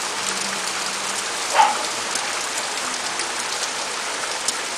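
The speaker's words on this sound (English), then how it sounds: "Yeah, it's raining outside." Steady rain falls outside, a broad, even hiss throughout with a faint brief knock partway, no voices present.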